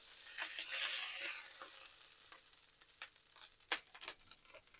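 Salmon fillets in a grill pan give off a bright, steady hiss of sizzling fat, loudest at the start and easing off, with scattered small pops and the clatter of the fillets being moved at close range.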